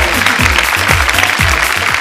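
An audience claps in a television game show studio, a short burst of dense, loud applause sustained evenly throughout.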